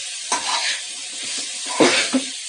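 Broccoli with onion and chilli is stirred in a frying pan under a soft, steady sizzle. A few scraping strokes of the spoon stand out, close by and with no talk.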